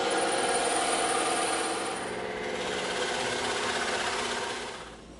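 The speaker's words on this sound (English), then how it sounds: "We're going to cut both of these out on the bandsaw." A bandsaw cuts through EVA foam sheet, giving a steady, loud mechanical whirring hum that holds for several seconds and then tapers off near the end.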